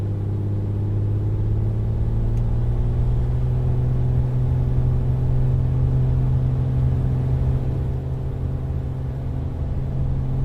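A Bonanza's piston engine on its takeoff roll in a flight simulator gives a loud, steady, low droning roar with layered harmonic hum that holds even and unbroken throughout.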